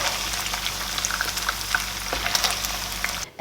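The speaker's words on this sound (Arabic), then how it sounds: "هلا بدنا نصفي السمنة من اللحمة المفرومة اللي قلينا فيها" Ghee is strained off fried minced meat and crackles and sizzles in a close, steady frying hiss with scattered pops.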